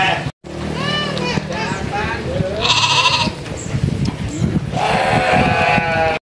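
Goats, including young kids, bleating on a farm in a forest area, several wavering cries rising over nearby talk, with a loud burst midway and another toward the end.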